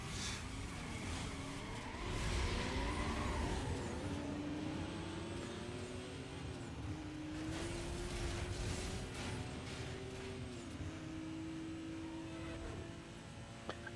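A Porsche's engine in Need for Speed Most Wanted (2005) holds a continuous drone, its pitch climbing and dropping through gear changes, loud and alone with no talking.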